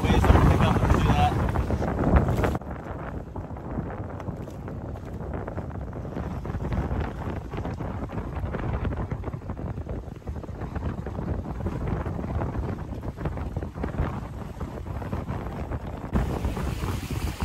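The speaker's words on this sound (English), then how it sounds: "About 20 knots of wind right now." Strong offshore wind, around 20 knots, while sailing a Hobie boat near a reef in the Bahamas, heard as a continuous loud rush and buffeting with waves, voices speaking faintly beneath.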